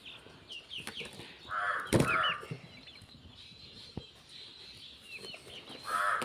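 Poultry on a farm, including turkeys and Aseel, Brahma and Black Australorp chickens, cluck and call in short bursts, with one loud close squawk and scattered clucks against quiet farmyard background.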